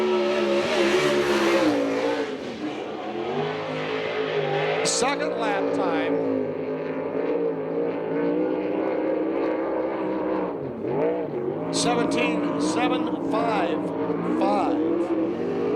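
USAC/CRA sprint cars lapping a track in Tucson, Arizona, a continuous loud engine roar that swells and fades as cars pass, under a track announcer reading out lap times.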